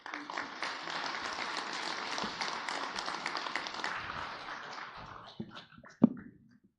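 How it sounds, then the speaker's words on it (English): An audience applauds at a product launch conference after a speech, a soft steady patter of clapping that thins out and ends with a single louder knock. "Let us give the warm applause to Mr. Khalid again"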